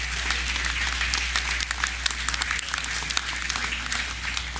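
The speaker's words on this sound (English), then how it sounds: "Let's give those ladies a round of applause as well." Audience applause at a National Heroes Day ceremony, steady dense clapping from a sizeable crowd heard at moderate distance for several seconds without speech over it.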